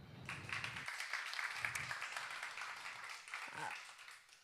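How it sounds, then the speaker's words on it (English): Applause from an audience at a deep-tech accelerator event, a fairly faint wash of clapping lasting a few seconds, with brief voices murmuring underneath. "Round of applause for that."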